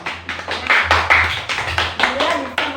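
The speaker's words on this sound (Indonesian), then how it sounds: "tepuk tangan buat Mbak Mila" Hands clap in a classroom during a microteaching lesson, a brief burst of scattered applause close by, mixed with voices and chatter.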